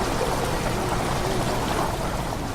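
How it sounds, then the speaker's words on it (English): Odd ambient water sound in the horror game Amnesia, a steady loud rushing pour with faint shifting watery tones running throughout, no talking. "The water makes a strange sound."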